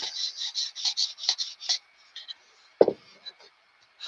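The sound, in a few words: sanding or filing a pistol part smooth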